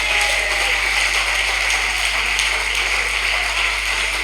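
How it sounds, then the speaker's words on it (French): A church congregation applauds during a Sunday service, a steady, even wash of many hands clapping at once with a constant low hum underneath and no talk. "Tu peux t'applaudir, Seigneur, bien."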